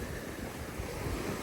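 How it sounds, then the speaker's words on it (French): Ocean waves break and wash steadily onto the beach at Half Moon Bay, a continuous broadband surf roar with gentle swells in loudness, no voices present. "Écouter le bruit des vagues"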